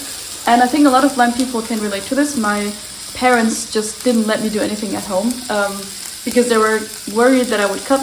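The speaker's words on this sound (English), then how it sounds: "I was scared of sizzling sounds like this now" Salmon sears in a pan with a steady crackling sizzle, part of a dish of miso salmon over oyster mushrooms with spinach and cream sauce. The sizzle runs continuously beneath a voice talking throughout.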